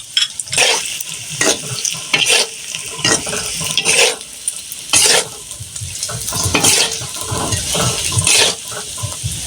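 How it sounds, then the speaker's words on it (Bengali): Eggs frying and being stirred in a pan, a steady loud sizzle broken by repeated scraping strokes of a spatula, close up with no voices. "আমি ডিমগুলো ভেজে নিচ্ছি"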